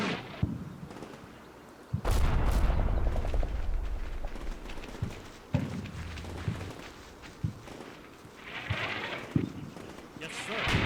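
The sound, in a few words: artillery fire in a US Marine simulator video game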